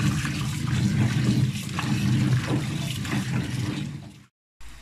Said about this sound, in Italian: adesso le metteremo sotto l'acqua corrente con acqua fredda